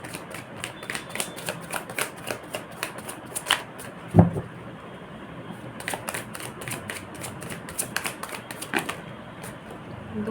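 Tarot cards are shuffled and flipped with a rapid run of papery riffles, slaps and flicks, close up, and one sharper knock partway through.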